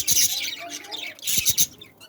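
Lovebirds chirping in a breeding setup, two bursts of bright, rapid overlapping chirps and squawks close by, with a short lull between them.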